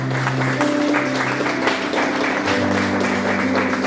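A church congregation at a worship service gives a round of applause, a steady wash of clapping under sustained musical tones from the worship band.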